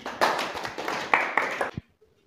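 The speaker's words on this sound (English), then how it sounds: "Clap for him." Pupils in a classroom at St Teresa's boys' school in Kitale, Kenya, clap for a classmate: a short burst of loose, uneven group clapping with a few stronger hits, stopping abruptly into quiet.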